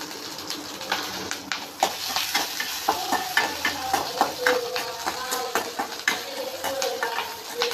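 Four green chillies stirred into a pan for a Nagercoil-style trevally fish curry, with steady close scraping and stirring strokes over a soft sizzle, a rhythmic series of clinks and scrapes from the spoon against the pan.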